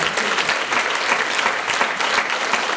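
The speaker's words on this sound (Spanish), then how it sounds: "Un aplauso al Señor." Church congregation applauding during a Spanish-language evangelical service: dense, sustained clapping from a crowd, loud and even throughout with no speech over it.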